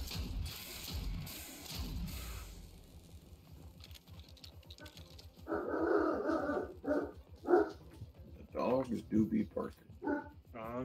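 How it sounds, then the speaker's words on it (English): Dogs bark in a video game setting of Sker Ritual, several sharp barks in bursts in the second half, with talk heard earlier and faint mechanical noises under them. "Dogs do be barking."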